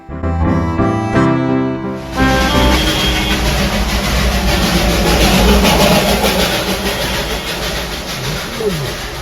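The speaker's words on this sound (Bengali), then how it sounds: "এই জয়রাই টয় ট্রেনটি বাতাসিয়া লুপ পর্যন্ত যাবে তারপর আবার ফিরে আসবে" A brief tonal sound, then a loud, steady rumble and clatter of the Darjeeling toy train running close by throughout.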